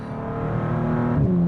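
The 12-cylinder engine of a 2023 Bentley Flying Spur Speed luxury sedan revs steadily and loudly, its deep tone rising and shifting pitch near the end, with no talking over it.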